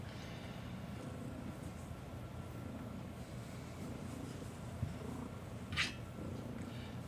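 Kibble the cat purrs loudly and steadily right up close, a continuous low rumble with a brief sharp noise near the end.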